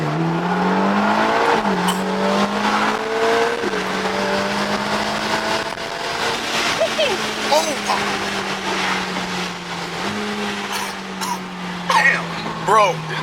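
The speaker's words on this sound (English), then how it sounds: "It's a Ferrari." A Ferrari revs and accelerates hard at a Texas car meet, its engine note climbing and shifting through several loud gear changes, with people talking and exclaiming over it.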